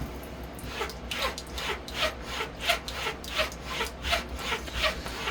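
A straight razor is stroked back and forth on a flax linen strop in a steady rhythm, each pass a soft rasping swish, quiet and close.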